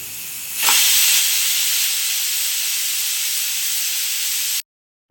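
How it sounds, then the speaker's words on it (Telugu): Pressure cooker of mutton curry venting steam in a loud, steady, close hiss that holds for about four seconds and then cuts off abruptly. "మనం కుక్కర్ మూత పెట్టేసుకొని 8 విజిల్స్ వరకు"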